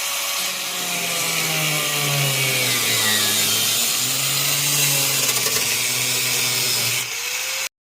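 A power saw cuts through rusted metal on a Mustang body, a loud continuous whining drone with shifting pitch that runs nearly the whole time, close up and alone, then cuts off abruptly at the end.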